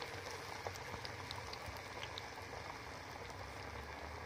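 Cabbage cutlets shallow-frying in oil over a low flame give a steady, soft crackling sizzle with scattered faint pops, close and unbroken throughout, with no voices.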